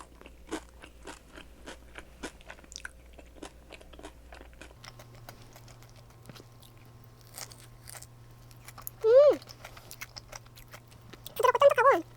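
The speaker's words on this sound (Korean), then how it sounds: "부드럽고 쫀득하고 카다이프 바삭바삭." A chewy, crunchy kadaif cookie is bitten and chewed up close, giving a run of soft crisp crunches and smacking bites. Two louder, brighter bursts of crackling arrive near the end, with no talking.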